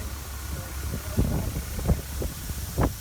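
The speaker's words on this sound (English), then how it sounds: "Pretty windy, sorry about the wind." Wind buffets the microphone in low, rumbling gusts, with a few stronger thumps standing out over a steady hiss.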